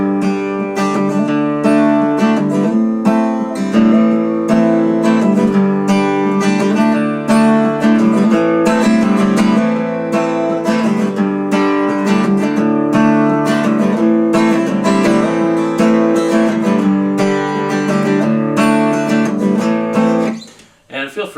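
Strummed guitar plays the verse chords of a song in a steady repeating pattern, loud and close, running unbroken for about twenty seconds before stopping abruptly.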